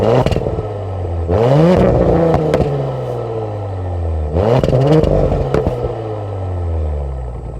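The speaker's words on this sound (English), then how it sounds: "one of the ways that you can definitely tell this is different than an A4 is the exhaust note." Audi S4 with a 3-liter turbocharged V6 revving hard twice through its exhaust, each loud rise falling back to a deep idle, recorded close and alone at an outdoor car meet.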